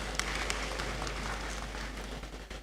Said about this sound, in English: Please let's applaud them.